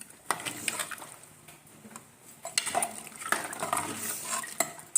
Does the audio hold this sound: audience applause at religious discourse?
no